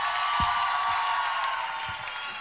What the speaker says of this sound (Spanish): Un aplauso para Víctor Javier Medina.